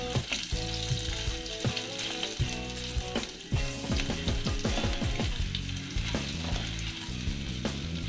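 Julienned onion frying in a hot pan for a restaurant-style matar paneer, a dense steady sizzle with a string of knocks and scrapes from stirring, loud and close throughout.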